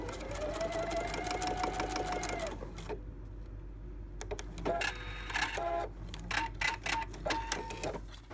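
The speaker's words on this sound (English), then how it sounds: "So let's sew that together." Sewing machine stitching quilt fabric for a spinning star quilt block, a steady fast mechanical whir for a few seconds, then a pause and several shorter bursts of stitching with clicks between, close and alone.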